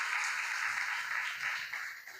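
Applause in church, a short, steady burst of many people clapping together, fairly even and sustained before tapering slightly at the end.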